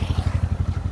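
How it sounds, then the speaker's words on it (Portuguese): A passing motorcycle on a street near a Yamaha MT-03, its engine throbbing in a rapid, even low pulse, loud and close for a brief moment without talk. "Vai passar mais uma moto berrando igual um boi aqui"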